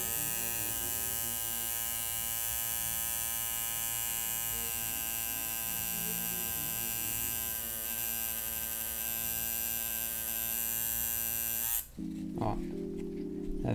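A tattoo machine running at low voltage on pig skin for shading gives a steady electric buzz that holds at an even level for about twelve seconds, then cuts off abruptly.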